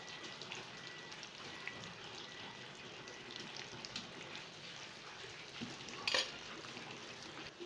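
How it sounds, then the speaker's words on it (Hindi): Potato and egg patties fry in oil with a continuous, even sizzle and crackle, fairly quiet and close, with a brief sharper tick near the end. "अच्छा, तो इसी तरह हम अब दूसरी भी तल लेते हैं"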